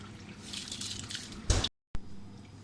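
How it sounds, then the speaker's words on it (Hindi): Rice being tipped into a pot of boiling water, a close bubbling rush that swells into a loud splash, then a sudden cut to silence before the simmer resumes. "अब इसमें हम चावल डाल लेते हैं।"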